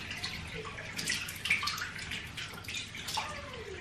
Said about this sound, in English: I think I'm just gonna put water first.